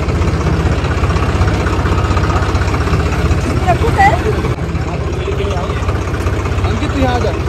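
A tractor engine idling on a farm at Maudaha, India, a steady low throbbing rumble that holds constant under people talking nearby.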